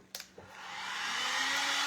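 A hair dryer is used to dry white paint on a Dollar Tree craft snowman. A couple of clicks come first, then the dryer whooshes on and rises to a steady, close airy roar.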